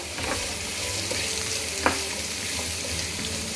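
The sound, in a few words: stirring radish leaves and radish frying in a pan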